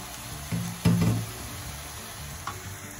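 Carrots, turnips, jicama and green beans stirred together in a frying pan, with a brief scrape and sizzle burst near the start, then a soft steady sizzle underneath.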